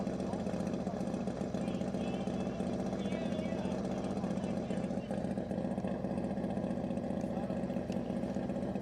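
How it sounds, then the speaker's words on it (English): A land speed racing motorcycle runs on El Mirage dry lake, a steady distant engine drone holding a constant pitch throughout, with faint wind and ambient noise and no talking. "On course now, bike number 1974, San Diego Roadster Club."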